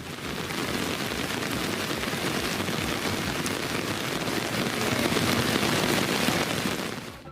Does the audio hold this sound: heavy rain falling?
yes